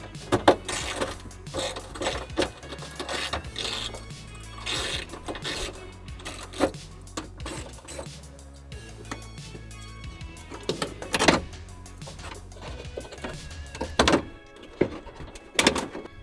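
Work on the inner fender liner of a second-generation Toyota Tacoma, removing 10mm bolts: close, intermittent mechanical whirring and thunks in uneven bursts, with sharper knocks near the end and no talking.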